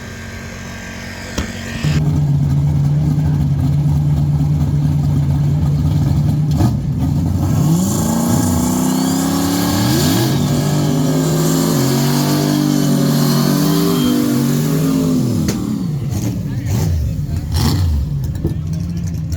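A drag racing car testing at 710 Dragway revs loudly and close, its engine tone climbing and falling through several runs up the rev range while people talk over it.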